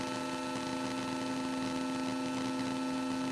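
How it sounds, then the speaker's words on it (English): Arturia MicroFreak synthesizer playing a sine wave: a steady pure sustained tone holds at an even level throughout, with faint upper partials and no talking. "brings in a sine wave"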